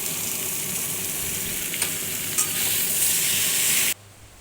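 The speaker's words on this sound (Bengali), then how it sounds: "এরপর দিয়ে দিলাম 5-6টা রসুন থেতো করে, এটাকেও একটু কষিয়ে নেব ভালো করে" Crushed garlic cloves and boiled taro leaves, with torn green chilies, sizzle steadily in a hot oiled pan while being stirred, with a couple of soft scraping knocks before the frying sound stops abruptly near the end.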